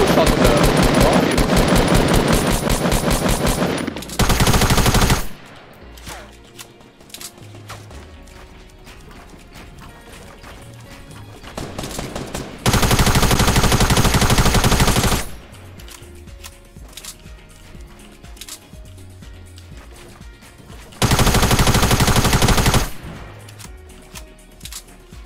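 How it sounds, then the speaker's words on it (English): Video game gunfire: three loud, dense bursts of rapid automatic fire separated by quieter stretches of softer game sounds. "Where are you shooting?"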